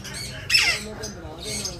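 A creamino ring-necked parakeet from a breeding pair lets out a single sharp, loud squawk that rises and falls, close to the microphone, with quieter background noise around it.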